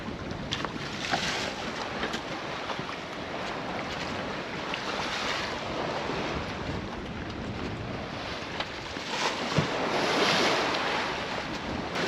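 Wind picking up at sea ahead of a squall while sailing, a loud, steady rushing roar with water wash against the boat, swelling in a stronger gust near the end, with no voices.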